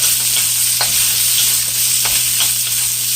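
Onions being stirred and stir-fried in a hot pan, a steady close sizzle with occasional scraping strokes as they are pushed around, no talking.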